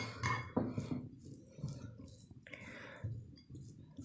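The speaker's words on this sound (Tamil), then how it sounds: "அதுக்கப்புறம் இது நல்லா கலக்கிக்கலாம்." A spoon stirs a vegetable mixture with squeezed lemon juice in a bowl, giving soft irregular clinks and scrapes against the dish, quiet and close, with no one speaking.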